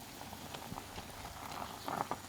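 Water bubbles and simmers steadily in a pot of khilek (cassia) leaves, a soft continuous boil with faint pops and patters, no voices.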